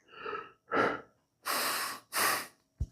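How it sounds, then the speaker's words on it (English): Slow, deep breaths drawn in through the nose and down into the belly, the kind practiced for kettlebell swings: a soft inhale, a fuller airy breath, then two long strong hissing breaths close to the mic, ending in a brief low thump. "breathing in through your nose and breathing down into your belly"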